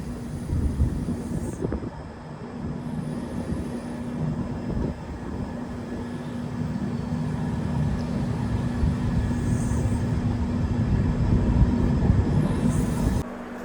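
The Rameswaram–Mangaluru express rolls slowly into the platform at Manamadurai station with a steady, loud, continuous rumble and a low droning hum, heard from on board without speech.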